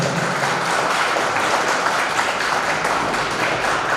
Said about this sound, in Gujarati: મિત્રો તાળીઓ વધાવજો